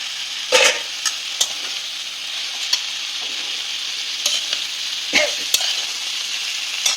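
Papaya and shrimp curry sizzles steadily in a wok, with a spatula scraping and clattering against the pan in irregular strokes, close and fairly loud, with no talking.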